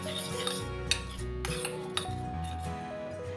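A metal spoon mixing yogurt starter in a bowl, scraping and clinking against the sides in quick bursts, close and fairly loud, with no talk.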